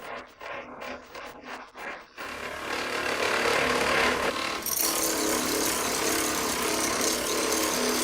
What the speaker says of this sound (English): Hollow grinding is the most demanding step in razor making.